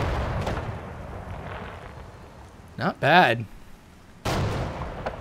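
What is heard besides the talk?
explosions in a video game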